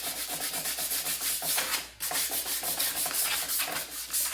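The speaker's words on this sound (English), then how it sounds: "I'm going to especially sand where those areas of the discoloration and the finish are, until it feels smooth under my fingers" A hand sands the finish of wooden furniture in quick, regular back-and-forth strokes, a close, steady scratchy rhythm with a brief pause midway.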